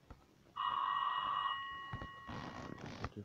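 An old telephone rings in the Cube Escape: The Mill puzzle game, one steady bright electronic ring lasting about a second, followed by softer clicks and rustling.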